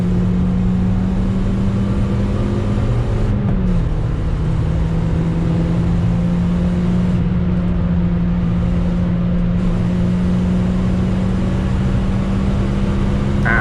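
A Toyota Yaris laps an icy Donington Park during a winter trackday, its engine droning steadily and loud from inside the car, the pitch dipping briefly as it shifts, then holding a sustained hum.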